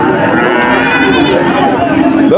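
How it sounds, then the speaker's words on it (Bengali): Calves call out at a busy cattle market in Monirampur, loud close moos rising over a crowd murmur and people chatting nearby. "এখানে 3টি বাছুর আছে"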